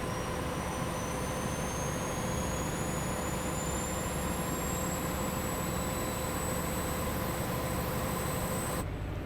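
A locomotive engine screams at high pitch in Train Simulator Classic on the Riviera Line, a steady loud whine with a rising tone over a constant rumble, running unbroken for about nine seconds before cutting off abruptly.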